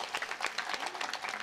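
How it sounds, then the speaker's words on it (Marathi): An audience at a kirtan claps for young girls, a dense, continuous burst of applause that stays fairly close and even across the brief moment, with no voices over it. "एकदा जोरदार टाळ्या वाजवा यांच्यासाठी"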